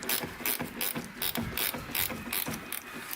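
A hand ratchet clicks in quick repeated bursts while bolts come off the doors of a Datsun 510, each stroke giving a crisp metallic ratcheting rattle, close and fairly quiet, with no talking.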